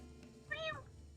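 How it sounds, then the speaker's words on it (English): A single cat meow lasting about a third of a second, clear and fairly close, with a rising then falling tone, over a faint steady background hum. "That's not a Dutch one now, that's a cat."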